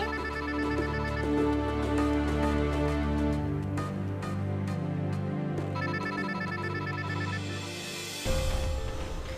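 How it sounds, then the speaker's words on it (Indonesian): A telephone rings with a repeating electronic ringtone, loud and steady over several seconds, inside a dramatic TV film scene, with a low musical drone underneath that shifts near the end. "itu ada telepon tuh"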